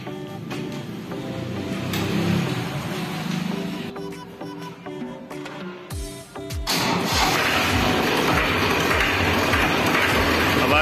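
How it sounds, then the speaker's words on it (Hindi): After some background clatter, a Farmtrac 35 tractor's diesel engine cranks with a few quick turns, then catches and settles into a loud, steady running rumble. "अब किसान भाई आपको ट्रैक्टर स्टार्ट करके दिखाएंगे।"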